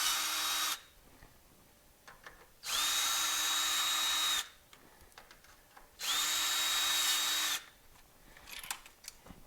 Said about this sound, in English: You take I got an 11mm socket. You just take out all the screws.